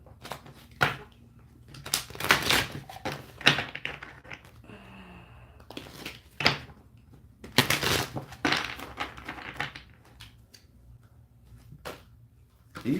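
Oracle cards being shuffled in quick, irregular bursts of crisp papery riffling and tapping, close and moderately loud, with brief pauses between runs.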